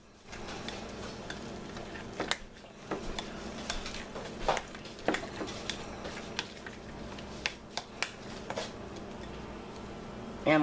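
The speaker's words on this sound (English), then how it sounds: "I'm gonna mix this up." A spoon stirs and scrapes potato filling in a bowl for twice-baked potatoes, with irregular clinks and taps of utensil against the dish over a soft background hum.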